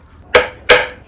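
A hammer strikes hard freeze-dried candy three times in quick succession, each a sharp, loud crack with a brief ringing tail, close up and without talk.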